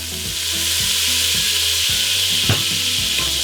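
Butter bubbles and sizzles in a soup pot for beef barley soup while a utensil stirs and scrapes rhythmically around the bottom, a steady close frying hiss with no talking.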